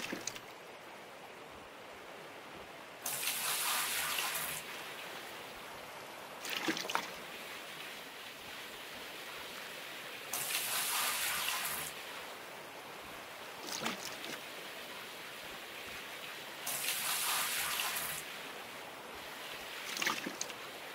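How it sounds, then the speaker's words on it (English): Water poured from a bucket in Gold Mining Simulator, heard as repeated bright rushing splashes of a second or two each, spaced a few seconds apart over a low ambient hum. "I dropped all the water out of the bucket as well."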